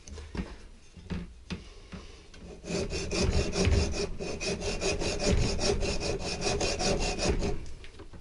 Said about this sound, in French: je vais le couper à la scie pour pouvoir le dégager tout simplement